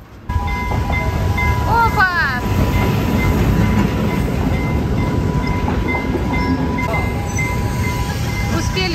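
A train rumbles past close by in Bentota, Sri Lanka, with rhythmic clattering and squealing wheels, loud and sustained; a person briefly exclaims near the start.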